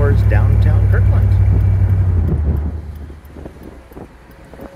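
A 1956 Ford Thunderbird cruises in traffic along Northrop Way toward downtown Kirkland, its engine a loud, steady low rumble mixed with wind noise that fades to a quieter hum partway through.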